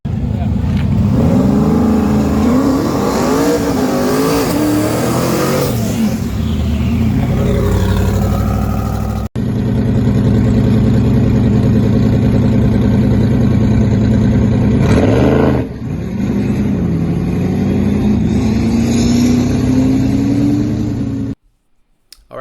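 A Z06 turbo drag car revs hard and accelerates on its first run of the day at FL2K, its engine note rising and sweeping upward through gears, loud and close, then cutting off abruptly; a voice talks over parts of it.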